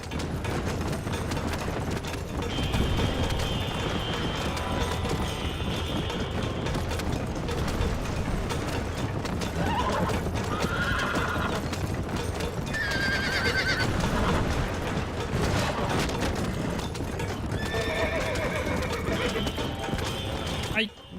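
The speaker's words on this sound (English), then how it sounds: "Ai, o cavalo cansou." A horse in the Red Dead Redemption PC game whinnies several times over steady galloping hooves, with game music and someone talking throughout.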